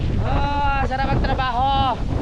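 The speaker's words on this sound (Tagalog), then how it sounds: "Ang lakas naman ng hangin!" Strong wind buffets the microphone in loud gusts while a person speaks over it, close by.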